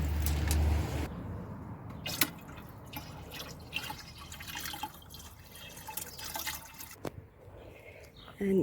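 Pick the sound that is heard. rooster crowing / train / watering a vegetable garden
watering a vegetable garden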